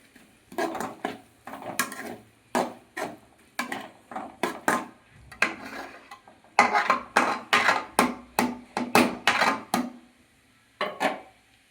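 A spatula scrapes and clatters against a pan as egg fry is stir-fried, in irregular bursts of metallic strokes with short pauses between them, fairly quiet and with no talking.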